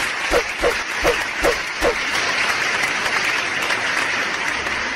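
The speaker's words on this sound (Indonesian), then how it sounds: "Berikan tepuk tangan yang meriah." A burst of applause follows a quiz result, with a few loud, distinct claps standing out near the start before it settles into a steady wash of crowd clapping.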